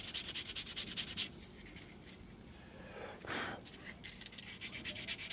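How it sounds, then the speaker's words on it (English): Steady rhythmic rasping strokes of sandpaper on a carved wooden spoon, close by, pausing briefly midway before the scrubbing resumes. "Now I'm at the sanding process of the spoon."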